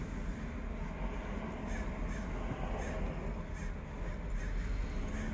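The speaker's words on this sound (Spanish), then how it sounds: "Muchísimo cuervo. Se paran, buscan comida." Many crows gathered at the California seaside, perched and foraging, give repeated caws over a steady wash of surf and outdoor background noise, the calls fairly distant and blending together.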